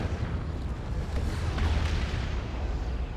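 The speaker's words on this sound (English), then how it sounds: "Forced off though by a Manticore Strike." A Manticore Strike artillery barrage in Warhammer 40,000: Dawn of War II – Retribution, a thick rumbling wash of explosions that swells slightly midway and rolls on without pause, with no talk.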